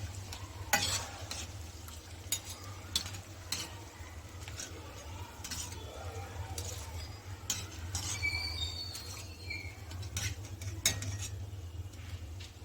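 Bonda frying in hot oil with a steady low sizzle and bubbling, broken by scattered clinks and scrapes as the golden-brown pieces are stirred and lifted out.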